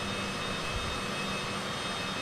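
A Citation CJ4 jet on landing approach near San Francisco Bay, with power pulled back, gives a steady broadband engine and airflow roar that stays constant and fills the whole stretch without talk.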